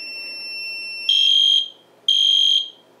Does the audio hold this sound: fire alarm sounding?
yes